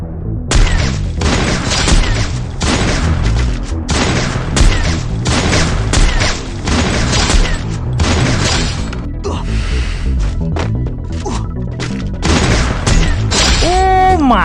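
Gunfire rings out from a sniper-focused mobile shooting game, loud repeated cracks and booms in dense clusters across the stretch, with a brief quieter lull and rising whooshing tones near the end, and a voice talking over parts.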